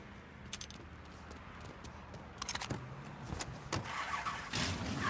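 A car engine in the Mafia 3 video game runs at a steady low rumble with a few mechanical clicks, growing slightly louder toward the end, with no talking.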